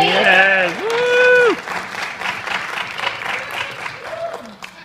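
Film festival audience applause, a short burst of claps under overlapping voices with a rising and falling whistle-like tone, fading after a couple of seconds.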